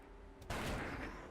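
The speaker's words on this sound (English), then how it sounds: "Grape shot blast." Grapeshot blast in the video game Darkest Dungeon, a sudden loud burst of scattered gunfire that rings out and decays over about a second after a quiet lead-in.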